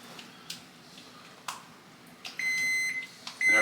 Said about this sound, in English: There's the oven. It's telling me it's ready to heat up.